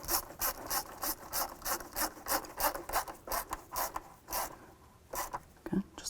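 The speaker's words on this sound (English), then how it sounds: "Let's go ahead and snug up the clamp." Rapid rhythmic ratcheting or scraping strokes while snugging a hose clamp onto the throttle body of a 2007–14 Cadillac Escalade, a close, steady series of short rasps with a brief pause near the end.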